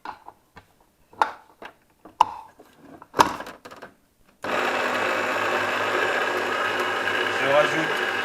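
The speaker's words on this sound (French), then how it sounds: "je mets ça au batteur" A stand mixer starts up with brioche dough after some separate knocks and clatters, then settles into a continuous mechanical whir with a rhythmic ticking that runs steadily to the end.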